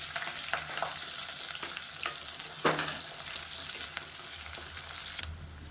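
Long-sliced onions sizzle and crackle steadily in hot oil, with occasional stirring clatter close by and no voices.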